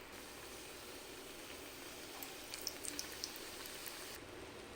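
Egg puffs deep fry in hot oil with a faint, steady bubbling sizzle, and a few small pops crackle through it near the middle.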